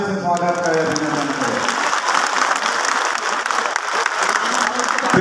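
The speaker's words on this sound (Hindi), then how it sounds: "जोरदार तालियों से स्वागत करें।" A crowd at a large community event in Raipur bursts into loud, dense applause to welcome a guest. The clapping is close and steady, with a speaking voice audible at the start as the applause begins.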